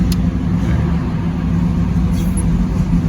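A 1963 Oldsmobile F85 Cutlass with a Rochester 4GC carburetor runs in a cool shop at about 50 degrees after a cold start, giving a steady, fairly loud low rumbling idle with no talking.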